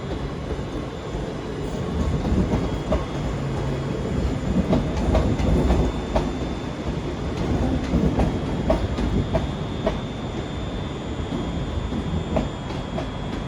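A ScotRail train pulls into Glasgow Central station with steady rumbling, wheel clatter and rhythmic clicks over the rail joints, holding at a fairly constant level throughout.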